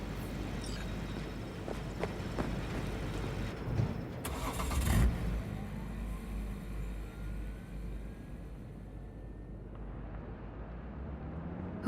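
Car engine rumbling steadily as a vehicle drives in Cyberpunk 2077, a low continuous drone with a brief louder surge near the middle, then settling into a quieter, smoother hum.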